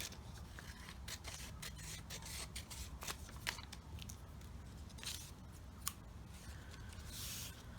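Scissors trimming sheets of paper for a journal, with a string of quiet, crisp snips and soft rubbing of paper rustling between the cuts, close by and fairly faint.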